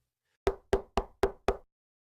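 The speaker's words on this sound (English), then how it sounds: "Then, out of nowhere, a sudden sharp knock." Five sharp knocks land in quick, even succession, loud and close, each one crisp and then gone, with silence before and after.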